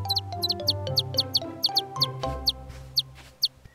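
A baby chick peeps repeatedly in high, insistent chirps with a steady rhythm, close by, over a soft musical background; an animated chick crying in a children's cartoon.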